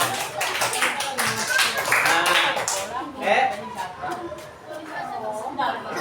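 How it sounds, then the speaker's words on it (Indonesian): A class of fourth-grade schoolchildren claps together in a classroom, a short burst of mixed claps with excited chatter and voices over it. "Tepuk tangan dulu buat kelas 4 ya."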